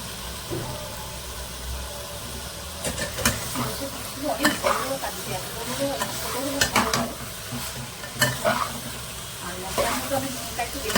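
Chicken goes into spiced masala in a pressure cooker and sizzles steadily up close, with frequent stirring scrapes and clatter, while a person talks over the frying.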